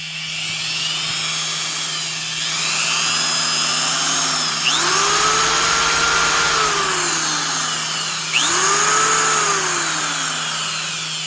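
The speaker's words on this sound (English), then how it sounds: "A lot of Milwaukee drills really sound nice when they're running, just like sewing machines." A nearly new Milwaukee Magnum 1/2-inch compact right angle drill runs steadily with a smooth, loud whine, its pitch sweeping up and down twice as the motor speeds and eases.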